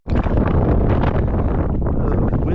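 Strong wind blowing across Percy Priest Lake while fishing from a boat, a loud continuous roaring buffet on the microphone that fills the whole moment without pause.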